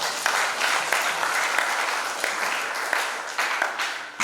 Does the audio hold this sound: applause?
yes